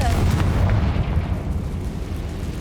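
A Confringo fire spell explosion in the Hogwarts Legacy video game, a loud burst at the start that rumbles and slowly fades over a few seconds, close and full.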